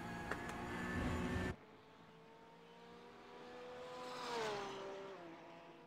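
A Porsche 911 GT3 race car lapping Road America in a racing video game, its engine note first loud and buzzing, then dropping away to a quieter tone that rises and sweeps as it shifts.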